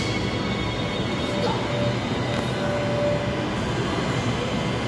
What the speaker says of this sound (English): EMUs 110 and 82, leaving platform number 2, heading to Butler